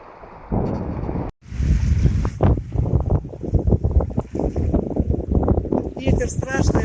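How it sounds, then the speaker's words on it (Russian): Strong, gusty wind buffets the microphone at a lakeshore during a stormy fishing trip, a steady roar with bursts, heard under someone talking throughout. "Ветер страшный, а рыба клюет."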